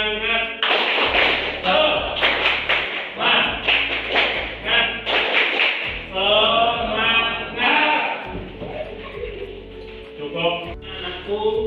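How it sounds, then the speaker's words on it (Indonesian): A class of eleven pupils doing rhythmic 'tepuk semangat' chant-clapping in a classroom during a teaching session, with sharp group claps in patterned bursts under loud chanting voices throughout. "Tepuk semangat"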